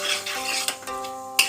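Cumin seeds and bay leaves are stirred in a pan while cooking Bengali chhanar kalia: soft, close scraping strokes with a few sharp metallic clicks of the spoon against the pan, and no voices.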